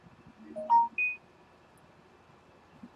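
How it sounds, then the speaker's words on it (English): Phone ringing in the farming video game Farming Simulator 19, a couple of short clear electronic beeps rising in pitch over faint background ambience, then quiet. "There's my phone going."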